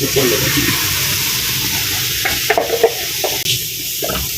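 Shrimp cooking in a pan alongside peppers gives off a dense, steady sizzle that fills the whole stretch, with a few faint clinks near the end.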